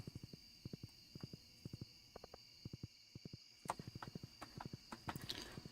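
Pixelated horse hooves from Stardew Valley clop in quick, evenly spaced bursts, soft and close over a quiet background hum, with no talking.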